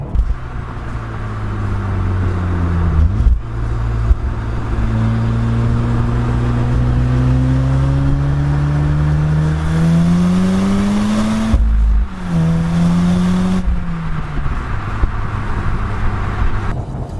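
Volkswagen Golf R engine heard from outside, loud revving that climbs steadily in pitch through several long pulls, dropping back between rises, with the exhaust note close and dominant.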